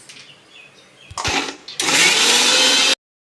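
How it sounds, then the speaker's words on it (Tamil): A kitchen mixer grinding peeled banana whirs to life in short bursts, then runs at a loud steady grind for about a second before cutting off abruptly. "இந்த வாழைப்பழத்தை நம்ம உரித்து லேசாக மிக்சியில் போட்டு அரைச்சிட்டு வந்துடுவோம்."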